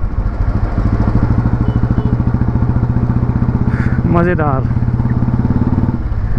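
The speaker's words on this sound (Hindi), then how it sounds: "बीट अच्छी आ रही है बाइक की" A restored 2004 Royal Enfield motorcycle thumps along with an even, close, steady single-cylinder beat while riding, and someone speaks briefly over the engine partway through.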